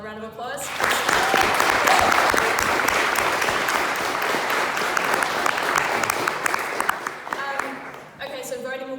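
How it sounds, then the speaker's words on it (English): A large crowd applauds steadily for several seconds, a dense wash of clapping that swells, then tapers off near the end with brief talk around it. "Can we give them another round of applause?"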